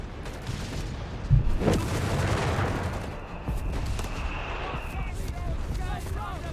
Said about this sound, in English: Mortar there getting hammered and almost getting demolished.